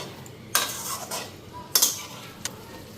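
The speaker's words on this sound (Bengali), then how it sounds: "তো হালকাই লাড়া ঝাঁটা কইরা আবার ঢেকে দেবো" A few sharp metallic scrapes and clinks of a spatula gently stirring frying fish in a kadai, close and sporadic, over a quiet low background.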